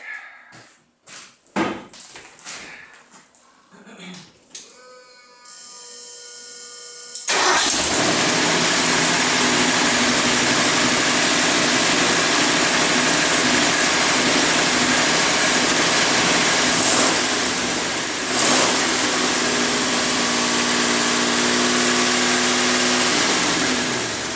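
A 1984 Ford F250 Bullnose with a 460 engine cranks and catches on its first start, then roars up in revs and settles into a loud, steady high idle that holds for the rest of the clip.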